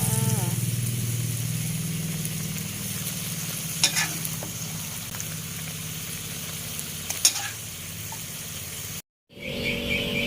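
Cucumber and pork belly being stir-fried sizzle steadily in a pan, with a few sharp scraping clicks of the spatula, and a brief cut to silence near the end before the frying resumes.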